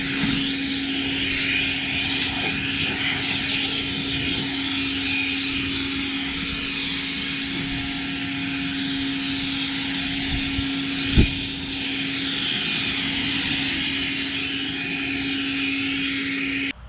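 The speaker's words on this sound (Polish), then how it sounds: "Odkurzacz dobrze radzi sobie podczas przedmuchiwania różnych rzeczy, podczas przedmuchania odwiertów" A Makita DVC750L 18V LXT brushless cordless vacuum cleaner runs in blowing mode with a loud, steady high-pitched motor whine and rushing air, unbroken except for one brief knock partway through.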